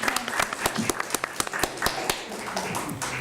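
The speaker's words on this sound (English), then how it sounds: "would you please join me in giving a thunderous round of applause for our wonderful panel" A small audience applauding a panel at a conference: a handful of sharp, separate claps spaced irregularly over a few seconds against a low room background.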